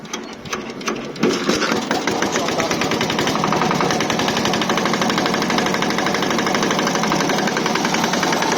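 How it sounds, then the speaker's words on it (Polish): Engine of a 550 kg vibratory road roller sputters and catches after about a second, then settles into a loud, steady, rapidly pulsing run that holds to the end, with no talk. "Ja pokażę teraz jak odpalić, czyli gaz do góry,"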